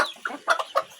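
Rhode Island Red chickens cluck close by in a few short, separate calls with quiet gaps between them, alone and without talk.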